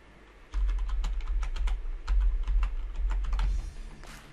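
Someone types msconfig on a computer keyboard under Windows 10, a brisk close run of key clicks over a low hum, finishing with a few final taps.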